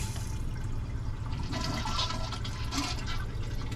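A Dometic 8740 macerator toilet under repair flushes with a steady rush of water filling the bowl, close by and moderately quiet, no voices.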